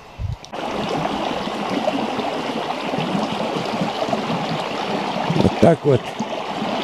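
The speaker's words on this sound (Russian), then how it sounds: "бежит, шумит горная речка Арша" The Arsha, a mountain river in the Southern Urals, rushes in a steady broadband roar, close by, with a few words spoken briefly near the end.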